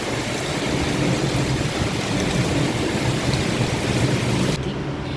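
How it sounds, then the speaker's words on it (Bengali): Heavy rain pours down in a dense, loud, unbroken roar with a deep low rumble underneath, steady throughout and cutting off just before the end. "কি বৃষ্টিটাই না শুরু হয়েছে বাপ রে বাপ মারাত্মক বৃষ্টি জমের বৃষ্টি"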